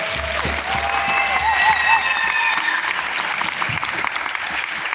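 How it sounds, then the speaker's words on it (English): Steady, full applause from a sizable crowd at an award night fills the whole stretch, a continuous wash of many hands clapping with faint cheering tones. "Let's give them another round of applause."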